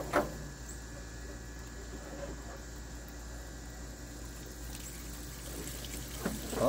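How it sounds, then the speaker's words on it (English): Rusty water flushing out of the cooling system of a 1934 Plymouth through a hose, a steady, soft rushing flow that holds evenly throughout, with a couple of faint knocks. "That's still really rusty water coming out of there."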